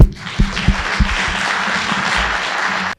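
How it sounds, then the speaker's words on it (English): A conference audience bursts into applause, a dense, steady patter of clapping that holds for a few seconds and then cuts off. "Let's give a hand of applause to Larry."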